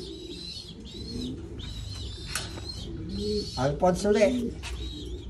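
Local racing pigeons coo in low, throaty repeated calls close by, with someone speaking over and between them.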